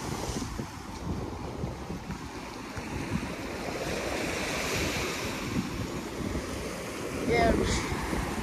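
Ocean waves breaking on the beach at Avon-by-the-Sea, a continuous broadband roar with wind buffeting the microphone and one louder surge near the end.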